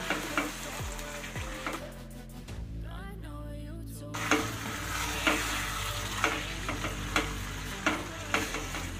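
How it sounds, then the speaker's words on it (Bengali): Salt being stirred through a simmering chicken and potato curry in a pan, with a rhythm of scraping spoon strokes against the sizzle and a brief lull midway, close and moderately loud. "লবণটাকে এবার উপর নিচ করে মিশিয়ে দেব।"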